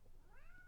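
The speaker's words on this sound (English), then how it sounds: "my cat is meowing and distracted me" A pet cat gives a single rising meow indoors, a clear drawn-out cry lasting under a second over a low steady room hum.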